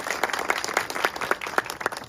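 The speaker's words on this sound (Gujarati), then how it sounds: "આપણા બધા માટે આપણે તાળીઓ પાડી લઈએ" Audience at a Gujarati community rally breaking into steady, dense applause, many hands clapping together at close range with no talk over it.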